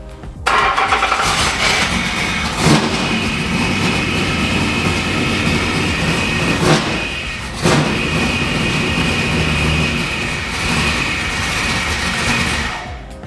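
A mystery V8 fitted with headers in a Nissan S13 cranks and fires, then settles into a loud, steady rumble with a few brief surges, heard up close from outside the car with no talking.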